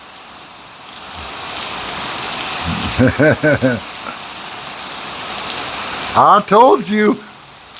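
Steady rain falls across a storm in the Phoenix, Arizona area, a continuous broadband hiss that swells after the first second, with two short bursts of a person talking over it.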